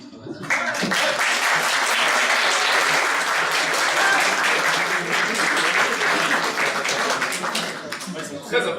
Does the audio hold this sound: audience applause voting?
yes